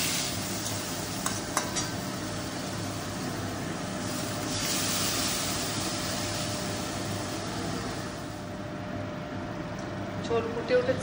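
A pot of fish curry with vegetables bubbles and simmers, a steady low hiss and bubbling close by, with a few faint clinks and a voice in the background.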